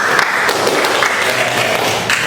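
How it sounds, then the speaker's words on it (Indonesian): A classroom full of people claps continuously, a dense steady patter of applause with no pause. "Kasih tepuk tangan buat Magdalena"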